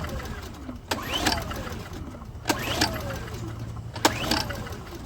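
A Honda EU2000 portable generator with a no-spark problem, restarted and running unevenly, its mid-pitched engine hum steady and close with repeated sharp surges roughly every one and a half seconds.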